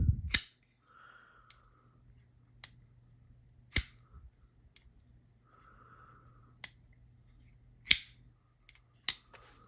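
A folding pocket knife with a flipper tab snaps open and shut, sharp distinct clicks spaced a few seconds apart with faint softer movement between, close and otherwise quiet.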